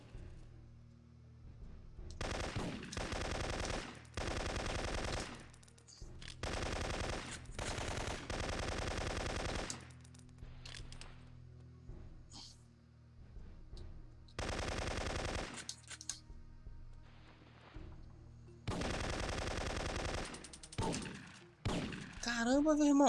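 Sustained bursts of automatic gunfire emptying a magazine in the Syphon Filter 3 video game, several long loud volleys separated by brief pauses, up close.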